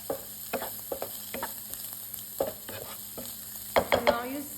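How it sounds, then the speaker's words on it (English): Vegetables and protein sauteing with curry, onion powder and garlic powder for stir fry noodles: a soft pan sizzle under repeated scraping stirs, with a louder cluster of utensil clatter near the end. "I'm just adding it at this stage and I'm just sauteing it."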